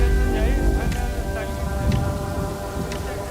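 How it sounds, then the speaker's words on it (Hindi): Heavy rain falling on an outdoor stage at a political campaign rally, a dense continuous hiss with a few brief sharp knocks, while voices and a tonal hum carry over it. "तभी स्टेज पर तेज बारिश हो गई।"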